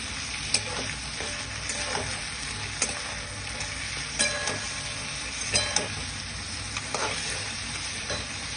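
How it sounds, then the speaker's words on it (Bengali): Ground spices, turmeric and ginger paste frying in a pan, a dense close sizzle with periodic scraping clicks from stirring every second or so. "সব রকম মশলাটা ভাজা হয়ে গেছে"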